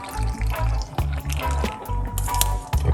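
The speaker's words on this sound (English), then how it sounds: "I'm going to pour him out just like this" Parsley and lemon tea pouring and splashing into a cup, a close, steady liquid stream broken by short gaps and drips.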